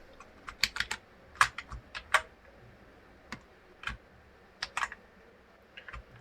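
Someone types "hello world" into HTML code on a computer keyboard. Irregular bursts of crisp key clicks come close up over a quiet background, with short pauses between groups of keystrokes and no talking.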